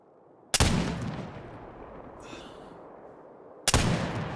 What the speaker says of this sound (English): Wow, that is a lot of smoke. I shot below where I was aiming.